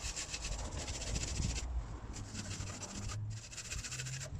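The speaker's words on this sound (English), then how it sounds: "So I've wire brushed these off." A wire brush scrubs the rear axle short arm of a Land Rover during polyurethane bush fitting, giving a steady, close, continuous scratching and rubbing sound with brief pauses in the strokes.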